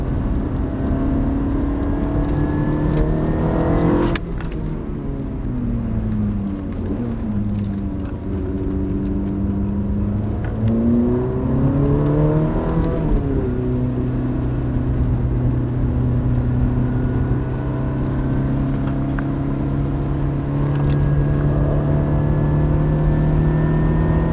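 A Ferrari F430 engine drones steadily on a racetrack, close and loud throughout, with pitch sweeps as the car brakes, turns and accelerates again.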